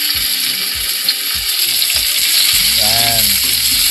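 Onions sauté in a hot pan for Filipino ginisang monggo with tofu and okra, giving a steady loud sizzle with a few soft utensil scrapes and clicks on top.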